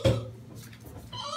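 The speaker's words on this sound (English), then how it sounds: "That sounded like a creaky door hinge or something" A short, creaky, door-hinge-like groan sounds up front, loud and tonal, fading into a quieter murmur, with a brighter tone returning near the end.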